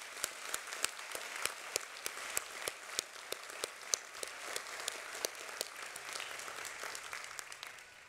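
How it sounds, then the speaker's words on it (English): Audience applause at a medical school commencement for the College of Osteopathic Medicine of the Pacific-Northwest: dense, steady clapping from a large crowd, with a few sharper claps standing out, continuing evenly throughout without speech. "A round of applause for all of these individuals."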